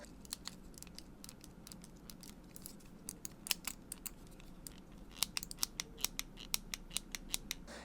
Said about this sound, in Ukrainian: я натискаю не сильно пальцем, миша хрустить, дно прогибається, бокові частини хрустять, прогибаються